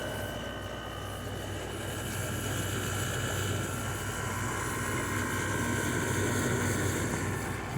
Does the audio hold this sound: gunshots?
no